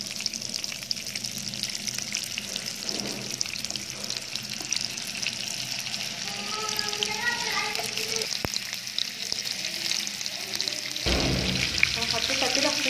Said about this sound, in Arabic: عندي طاسة فيها 2 معلقة زيت ومكعب زبدة عشان اشوح فيها الكفتة.